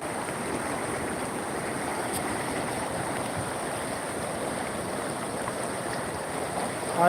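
A river swollen into flood after rain, its water rushing in a steady, dense roar that holds evenly throughout with no pauses and no voices.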